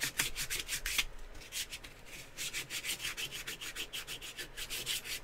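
Sandpaper worn dull is rubbed by hand over a small bumpy workpiece during a build, producing rhythmic, fairly quiet scratchy strokes in a steady back-and-forth pattern, with no talk.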